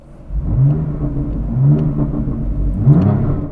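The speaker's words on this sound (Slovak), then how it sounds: "keď zapnem M režim, čarovným tlačidlom na volante, ten iný príplatkový výfuk sa prepne" BMW M4 with the optional M Performance exhaust in M mode, its engine roaring and revving in repeated surges, loud and close, with a deep rumble and no talk over it.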